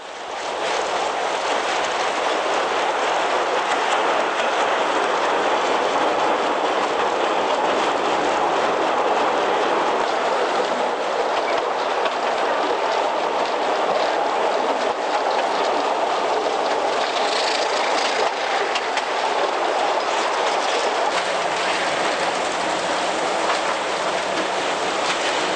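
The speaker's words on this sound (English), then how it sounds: "the train literally has to smash its way through the overgrown vegetation." A steady, loud broadband roar of a train moving continuously as it smashes through dense, overgrown bush, with rushing, scraping noise of vegetation against the cars, sustained throughout without voices.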